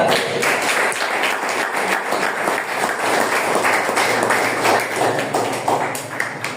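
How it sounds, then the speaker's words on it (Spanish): A church congregation at a Spanish-language sermon claps together in a loud, sustained burst of rhythmic clapping that fills the room and continues throughout. "Dale palmas."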